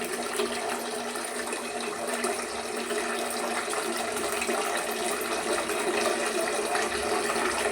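Tap water runs in a steady, even gush while fish is washed with turmeric and salt in a home kitchen, and splashing continues without a break throughout.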